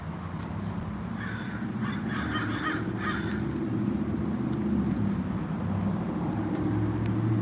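Crows caw in short bursts around the first few seconds outside Los Angeles City Hall downtown, set against a steady wash of traffic and city rumble.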